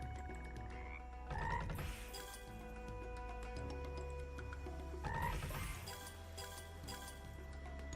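Croaking frog effects from the Tai the Toad online casino slot game sound over tinkling slot music, with two stronger bursts of croaks a few seconds apart and no talking.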